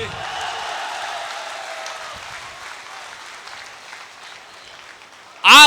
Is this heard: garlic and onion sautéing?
no